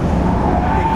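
A 2015 Mazda MX-5 of about 160 horsepower revs high on a race track at around 80 mph past the start-finish straight, giving a steady, loud engine drone with road noise for a single brief second.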